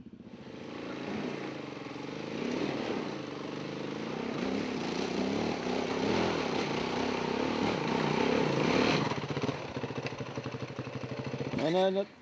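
Dirt motorbike engine revving and straining on a muddy hill climb at a tropical event, a steady loud drone with rising and falling pitch, rougher revs near the end, under faint crowd voices.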